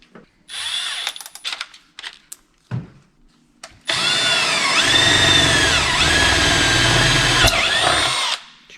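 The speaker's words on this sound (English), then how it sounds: "I am going to drill another hole down here to run my power cord through." A power drill bores a hole through a light fixture, running in a long steady whine that rises and falls in pitch, after a few short trigger bursts, close and loud with no talk.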